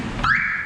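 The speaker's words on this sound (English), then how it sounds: "as you can see, you've got the buzzer here" Table service buzzer in a bar with marble tables sounds as a single sharp electronic tone that starts abruptly and holds steady at close range for about half a second, loud over a low background murmur.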